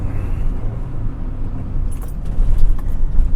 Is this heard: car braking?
yes